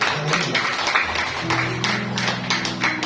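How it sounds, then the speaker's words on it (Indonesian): A church congregation claps during a sermon, giving a brief round of applause to God: dense, scattered hand claps, fairly close and steady, with a low hum beneath and no clear talk. "Tepuk tangan dulu buat Tuhan"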